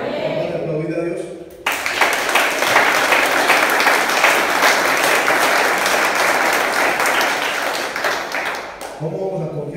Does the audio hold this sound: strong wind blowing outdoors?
no